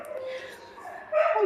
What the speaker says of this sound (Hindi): माफ़ी चाहूँगी कि बैकग्राउंड में बहुत सारे कुत्तों की भौंकने की आवाज़ आ रही है।